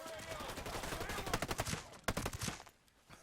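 Rapid bursts of gunfire in the video game Ghost Recon Breakpoint, dense cracking shots in quick succession that briefly pause and resume before fading.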